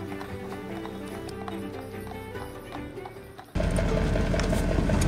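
A tired team of horses trots with a steady clip-clop of hooves, joined near the end by a sudden louder rush of wind or road noise.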